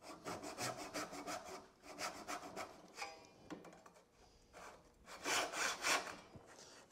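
A hand saw cuts a wooden tenon for a mortise-and-tenon joint in quick, rhythmic back-and-forth strokes, close and fairly quiet, with short pauses between bursts of rasping.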